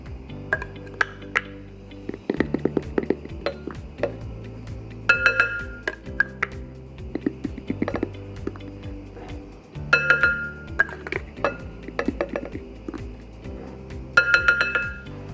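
Flour and salt are stirred together in a bowl with a fork. Repeated clinks and scrapes of metal against the bowl come in bursts, with a few bright ringing taps and quiet gaps between them.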